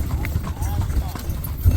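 Hooves of a carriage horse clip-clop on pavement, Egypt, in a short busy street scene with steady traffic rumble and background voices.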